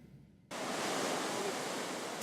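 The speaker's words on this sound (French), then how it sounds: "Leur rêve, surfer des vagues de près de 30 mètres de haut." After a brief quiet start, a loud, steady broadband roar of giant ocean waves at Nazaré beach fills the rest, a constant wash of surf noise.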